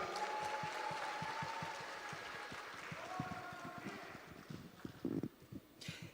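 Faint, distant applause from an audience at a Democratic Party joint campaign rally in Jeju, welcoming candidate Jeon Hyun-hee to the stage, with a steady pattern of soft rhythmic claps throughout.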